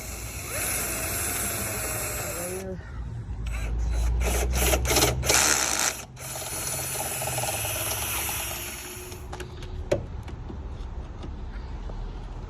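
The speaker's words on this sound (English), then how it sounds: "I'm gonna drill them out a little bit" A power drill enlarging holes in an S550 Mustang hood whirs in several short bursts, starting and stopping, loud and close over a steady engine-like background hum.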